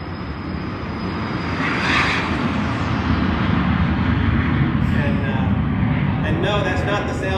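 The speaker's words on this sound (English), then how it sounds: "That was a jet just taken off. I think it was a Falcon 50 that was just taken off." A business jet, a Falcon 50, roars steadily as it takes off, a loud, sustained engine rumble and hiss filling the whole stretch, with a faint whine early on.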